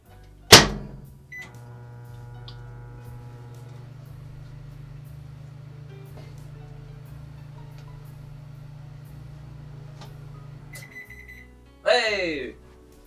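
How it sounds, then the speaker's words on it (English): A microwave oven heating a bowl of oats hums steadily after a sharp clunk of the door closing, then a few short electronic beeps sound near the end, followed by a final door clatter. "So we're gonna throw this in the microwave for a sec."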